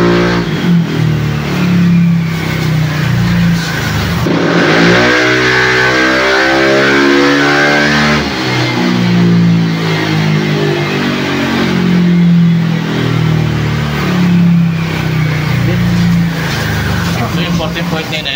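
A stock motorcycle engine, not yet remapped, revs repeatedly at close range, climbing and falling in pitch with loud throttle blips over a steady drone, while people talk over it.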